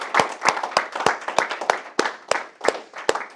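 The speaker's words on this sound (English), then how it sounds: "So just give one more round of applause to them." A small group of attendees at a private entrepreneur event clapping for speakers, sparse and distinct claps falling in a loose, uneven rhythm, fairly close.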